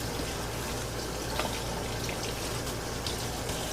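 Water runs steadily into a sink as mustard and turnip greens are washed, a continuous close splashing and trickling wash with faint drips, no talk.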